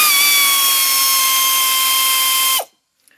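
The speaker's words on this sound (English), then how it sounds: "I'm going to take a speed wrench on forward" A tool tightens hardware on the rear brakes of a 2007 Nissan Altima, giving a steady, loud mechanical whine for about two and a half seconds that cuts off abruptly into near silence.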